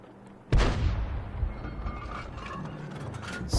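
A tank gun in a video game fires a single round with a sharp, loud blast, followed by a long fading rumble and faint mechanical clicks of the reload.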